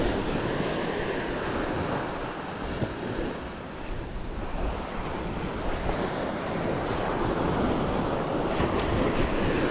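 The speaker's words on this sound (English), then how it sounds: "The winds are good, the beach is amazing" Surf rolls in on a windy beach at Sandy Cape, a loud continuous wash of breaking waves mixed with gusty wind buffeting the microphone, no voices.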